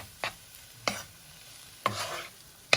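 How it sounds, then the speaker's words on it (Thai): Fried rice being stir-fried in a pan, heard as four separate, close scraping strokes of a spatula over a faint sizzle, spaced about a second apart. "ทีนี้ก็ผัดนะ ผัดให้มันเข้ากันนะทุกคน"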